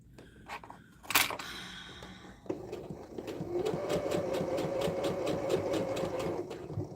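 A sewing machine stitches across a folded oilskin tote, with a few faint handling knocks and a sharp click before the steady, fast motor hum settles in close and runs on without talk.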